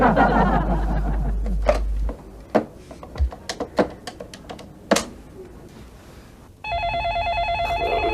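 A phone starts ringing near the end with a steady electronic ring, after a stretch of scattered knocks, clicks and shuffling sounds.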